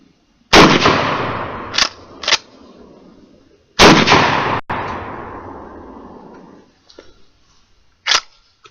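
A shotgun loaded with birdshot shells (Remington, Federal and Winchester) blasts a t-shirt outdoors: two loud booming shots, each trailing off in a long rolling echo, with sharp clicks between and after them.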